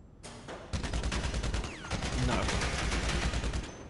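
Combat MG machine gun firing in GTA Online at the bunker shooting range, a loud sustained rapid burst after a brief opening shot, with a short dip before the stream resumes.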